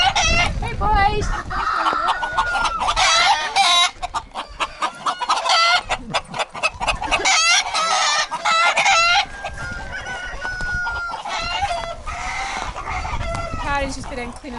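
Cockerels in a shed cluck and crow repeatedly, loud and close, with overlapping calls and several shrill crows throughout; a person speaks briefly among the birds.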